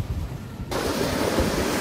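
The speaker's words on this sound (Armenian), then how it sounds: "Ծովի ձայնը լսեք, օվկիանոսի" Ocean surf at Kalapaki Beach in Nawiliwili, Kauai, Hawaii rushes in a continuous broad wash, with wind buffeting the microphone; the sound thickens abruptly after a moment.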